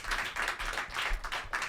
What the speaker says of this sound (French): mesdames et messieurs, on l'applaudit très fort